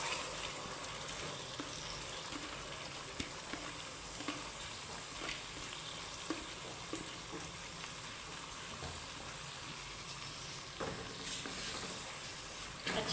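Soaked moong dal hitting a hot pan of frying ingredients, giving a steady broadband sizzle with scattered scraping and stirring clicks throughout, close and fairly quiet, no voices.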